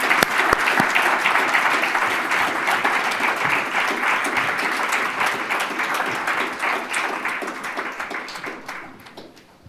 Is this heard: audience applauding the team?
yes